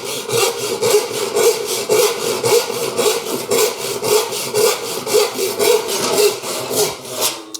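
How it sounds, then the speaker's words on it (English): A hand saw rasps steadily through wood in quick, even back-and-forth strokes, loud and close, with no talking. "and start sawing away."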